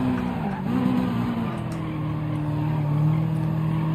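Mitsubishi Lancer rallycross race car with 520 hp drifting sideways in Gran Turismo 7, steady engine drone with tire squeal rising and wavering across the slide, continuous and fairly loud.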